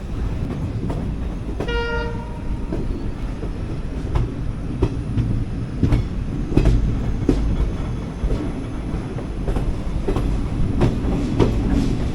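Morning train pulling out of Alipurduar toward Siliguri: a short horn blast early on, then a continuous rolling rumble with rhythmic clickety-clack wheel beats over the rails, close and loud, with no voices.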